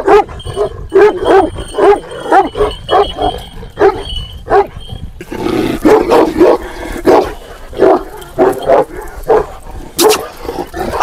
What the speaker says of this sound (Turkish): Çok agresif köpek.